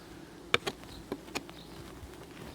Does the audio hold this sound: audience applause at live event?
no